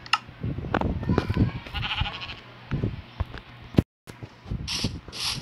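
Sheep in the video game Minecraft bleat several times at close range amid game sound effects, with a brief dropout and a few faint clicks and a higher tone toward the end.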